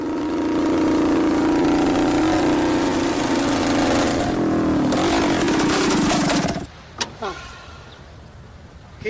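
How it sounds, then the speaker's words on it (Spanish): A Vespa 125 Corsa racing scooter from 1950, its small engine droning steadily and loudly nearby for several seconds, then cutting out abruptly, leaving faint residual clatter. "el expiloto va a volver a sentarse en una Vespa 125 Corsa"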